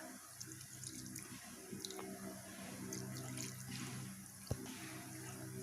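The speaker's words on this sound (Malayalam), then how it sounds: "ഇനി നമുക്ക് അതിലേക്ക് കുറച്ച് നോർമൽ വെള്ളം ഒഴിച്ചു കൊടുക്കാം." Water poured over strained chenna in a cloth to make rasgulla, a soft continuous trickle and splash with small drips and a couple of light knocks, quiet and close.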